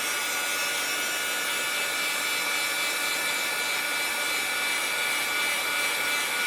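Heat gun held about an inch from shrink plastic for earrings, moved in a circular motion, giving a loud steady broadband whoosh of blowing air that runs unbroken throughout.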